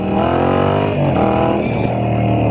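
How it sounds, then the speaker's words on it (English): A Moto Guzzi V7 motorcycle's engine thrums steadily while riding, loud and near, with a rich layered drone that shifts slightly in pitch across a couple of seconds. "What a motorcycle."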